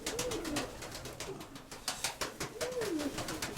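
Pigeon cooing in two rolling, throaty phrases, one at the start and one near the end, with a steady rhythmic clatter in the background.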